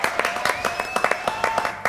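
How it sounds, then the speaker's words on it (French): A studio audience claps for a guest violinist and singer in a string of fairly close, uneven bursts, with a faint sustained tone running beneath. "Applaudissements pour Matei."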